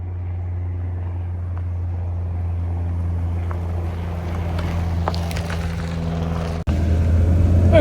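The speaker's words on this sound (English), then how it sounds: "here we are out in this Citroen DS23 Pallas 5-speed" A 1973 Citroen DS23 Pallas with a carbureted engine and five-speed manual gearbox drives along, its steady low engine hum and road and wind noise rising slightly, then a sudden louder jolt near the end.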